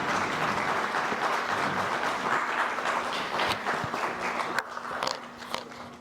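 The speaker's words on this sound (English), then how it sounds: "Please give them a round of applause." A crowd at a guitar gallery event applauds the Overstreet family as they come to the stage. The clapping is steady and fairly close, with scattered sharp individual claps and a few footstep-like knocks as it thins toward the end.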